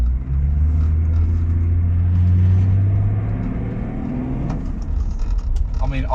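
A Range Rover P38 with a lack-of-power fault accelerates under full throttle, its engine giving a loud, sustained low rumble that climbs and then eases, heard from inside the car with no talk.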